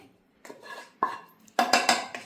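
Cooked spinach for fatayer filling is moved off the stove into a second bowl, with a few close, crisp clinks and scrapes of a utensil against the dish coming in short bursts and no talking.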